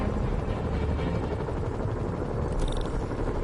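Helicopters in a Spider-Man video game chop steadily in a loud, low, continuous rotor drone that stays constant throughout, with no voices.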